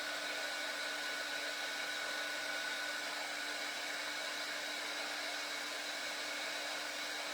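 A hair dryer blows steadily over shaving foam spread on a card, a constant even whir with no pauses that stays fairly quiet throughout.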